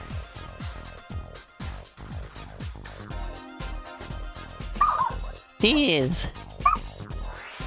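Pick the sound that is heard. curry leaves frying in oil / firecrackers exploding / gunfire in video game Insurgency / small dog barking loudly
small dog barking loudly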